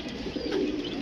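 Pigeons cooing softly and continuously at close range in a rooftop net enclosure, a low steady murmur with no talking.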